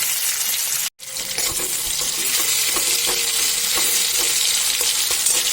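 Sliced onions sizzling and frying in a hot pan with oil, a dense continuous hiss with faint stirring clatter, loud and close, broken by one brief silent gap near the start.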